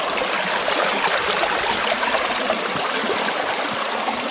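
Water rushes steadily over a Green Mountain gold trap sluice box, a close, continuous broadband hiss and splash with fine bubbling texture and no pauses.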